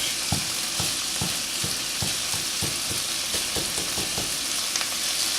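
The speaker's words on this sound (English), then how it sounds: "as it starts cooking, you want to make sure you're breaking it up and breaking it down. Stirring it up good" Homemade Italian sausage and onions fry in a pan with a steady, loud sizzle while a utensil breaks up and stirs the meat, giving a regular series of scraping knocks about twice a second.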